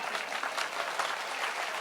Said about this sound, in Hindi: इतनी कमजोर तालियों में लाइन नहीं सुनी जा सकती